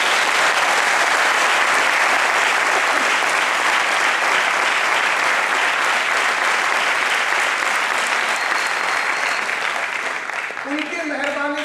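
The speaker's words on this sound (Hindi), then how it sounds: "जोरदार तालियां होना चाहिए।" Sustained, loud applause from an audience at a program for the RMP Nano Card, continuous dense clapping for over ten seconds that thins slightly near the end as a voice begins.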